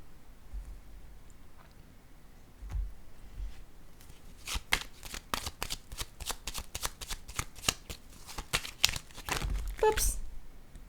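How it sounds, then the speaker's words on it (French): Tarot-style cards are shuffled, slapped down and handled during a card reading: a quick run of crisp riffling snaps and flicks close by, with softer taps and slides between them and no voices. "Je vais déposer une autre carte"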